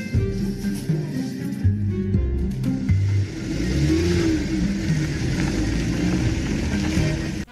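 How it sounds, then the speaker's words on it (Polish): A black BMW pulls away, its engine revving through several rising gear pulls close by, then settling into a steady, slowly receding drone. "I pojechała czarna BMW."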